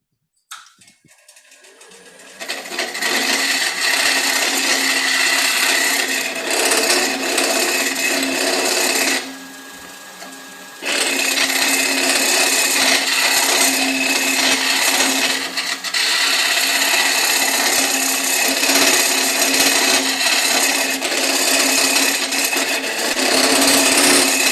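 A hollowing tool cuts wood on a turning lathe with a loud, steady scraping roar that starts after a brief quiet, dips for about a second midway, then carries on strongly and close.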